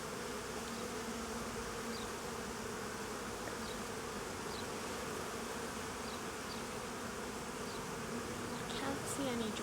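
Honey bees buzzing around an open beehive, a dense continuous drone that stays steady and close throughout, with individual bees occasionally flying past.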